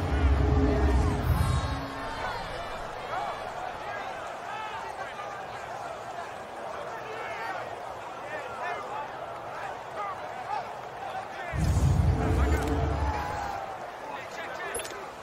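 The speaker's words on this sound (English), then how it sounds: "The crowd getting into it as we come up on a big third down" Stadium crowd at an NFL Monday Night Football game building into a loud roar ahead of a big third down, a broad swell of cheering and babble with bursts at start and end, under a commentator's voice.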